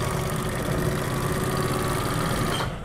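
Sewing machine running a fine stitch on bias-cut fabric strip for thin cord, a steady close mechanical hum and rapid even whir for nearly three seconds before stopping, no voices.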